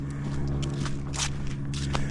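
Footsteps crunch on icy ground in a quick series of crisp, close steps over a low background hum.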